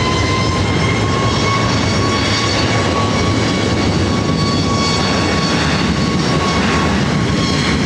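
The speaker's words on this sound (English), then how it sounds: "You're looking at Southwest Airlines flight 3457." Southwest Airlines jet airliner at LAX, a steady loud engine roar with broadband rumble and a faint whine holding throughout, no voices.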